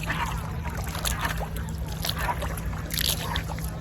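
A rowboat moves across a water-lily lake in the monsoon season, with soft splashes and sloshing water close by, irregular strokes over a low background hum.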